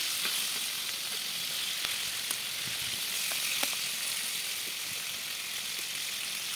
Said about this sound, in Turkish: tuzu ile birlikte şöyle karıştırarak kızartacağım